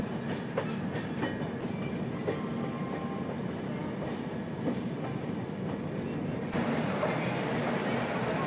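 The Darjeeling Mail from New Jalpaiguri rolls into Malda Town station late at night, its wagons rumbling steadily with repeated wheel clacks, and the noise swells louder toward the end.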